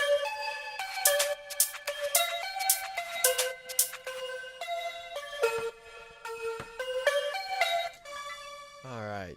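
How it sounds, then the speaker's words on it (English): A bright synth lead line plays a staccato melody over a funky house beat, with clean plucky notes in a repeating phrase and a pitch-bending sweep at the end. "I also added a lead line,"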